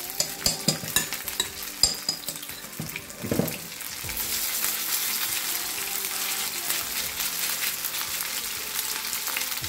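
Rice, eggplant and zucchini medallions fry in a pan of oil, giving a steady close sizzle that builds after a few short clanks and scrapes of the pan at the start.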